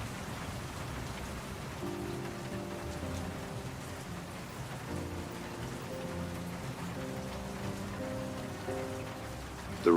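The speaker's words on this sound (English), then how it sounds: "The rain beats against the office window." Rain beats steadily against an office window in the puzzle game World of Goo 2, a constant patter with faint low musical tones underneath and no voices.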